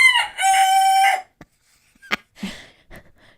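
A rooster crows once, loud and close, in a drawn-out call that lasts about a second. A few scattered clucks and small knocks follow in otherwise quiet surroundings.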